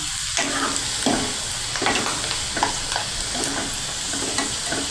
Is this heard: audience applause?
no